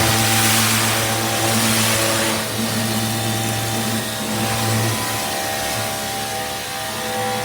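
A Greenworks Pro 3000 psi electric pressure washer fitted with a turbo nozzle sprays steadily, a loud continuous motor hum and hiss of water running without a break throughout.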